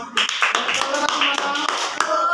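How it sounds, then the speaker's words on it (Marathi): Hands clap in a quick, steady series of sharp, close slaps, with a voice talking over them throughout. "टाळ्या वाजवा."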